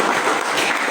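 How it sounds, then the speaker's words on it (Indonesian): A classroom of students applauds, a brief burst of dense, steady clapping without voices. "Tepuk tangan dulu untuk kalian semua yang ada di kelas."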